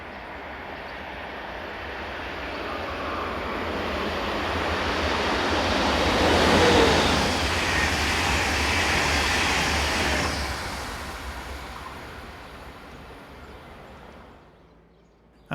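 Locomotive 146-555 hauls a regional passenger train past at speed, a broad rushing roar that swells to a peak midway and then fades away, with wind buffeting the microphone.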